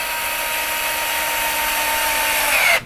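A power tool tightening screws on a Traxxas XRT RC truck during a rebuild: a loud, steady high-pitched motor whine runs continuously, then winds down and stops abruptly at the end.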